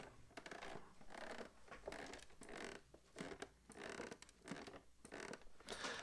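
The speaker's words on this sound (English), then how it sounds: "that is the sound of plastic straining against more plastic" The plastic casing of a Korg R3 synthesizer creaks and strains under pressure, heard as quiet, close crackling and scratchy bursts in irregular clusters with no voices.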